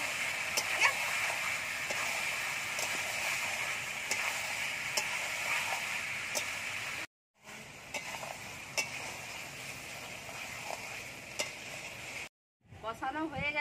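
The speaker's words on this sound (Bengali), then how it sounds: "মাংসটা কষিয়ে নেব যাতে কষতে কষতেই সেদ্ধ হয়ে যায়। ভেজে রাখা আলু দিয়ে দেব।" Meat with fried potatoes sizzling steadily in a pan as it is stir-fried, a continuous loud hiss broken by brief silences, with stirring scrapes and ticks throughout.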